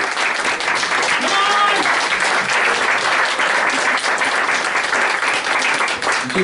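Dense, sustained applause from a comedy-club audience fills the whole stretch at steady loudness, with some cheering voices mixed into the crowd noise.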